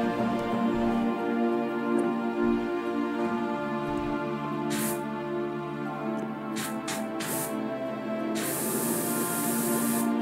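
Hissing spray from a pressure washer in PowerWash Simulator, several short bursts and one longer continuous spray cutting in over steady background music.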